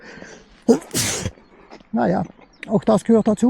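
A sharp, loud sneeze bursts out close by, followed by someone speaking a few words.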